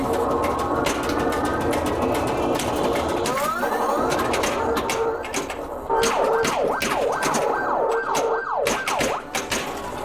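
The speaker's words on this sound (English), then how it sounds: "the sound this game makes when you hit a jackpot is so cool" A North Coast Pinball Getaway machine plays its jackpot effect: a loud run of rapidly repeating rising and falling siren-like electronic sweeps, layered over busy arcade bells, chimes and mechanical clatter, with some talk in the background.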